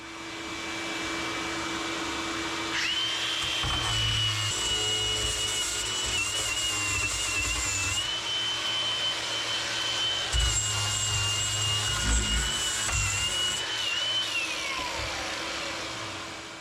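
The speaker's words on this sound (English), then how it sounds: "Tonight, I'm running an angle grinder to get some of the rough edges down" An angle grinder works over rough fiberglass edges on the rotten transom of a 1980s Donzi boat, giving a steady, loud, high-pitched whine that runs nearly continuously, with small pitch dips and low rumbling bursts under it.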